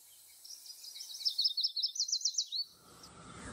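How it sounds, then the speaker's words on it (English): A single bird sings a quick trilling phrase of rising, rapidly repeated high notes, clear and close against near silence, ending after about two seconds. "Some birders can even recognize a bird just by listening to their song."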